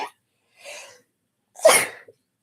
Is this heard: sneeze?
yes